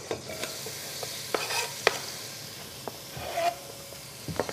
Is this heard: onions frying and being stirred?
yes